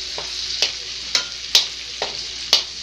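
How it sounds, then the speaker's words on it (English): Onions sauté in oil with a steady sizzle, broken by about six sharp scraping clicks of a spatula stirring the pan at a regular, roughly half-second rhythm. "binigisa na natin ang ating onions."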